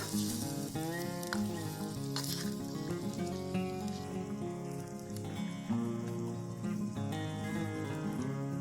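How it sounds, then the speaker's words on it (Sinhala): Fish curry mixture is stirred in a hot pan, its soft sizzle and scraping running under prominent background music throughout. "දැන් මේ ඔක්කොම ටික අපි හොඳට කලවම් කරගමු."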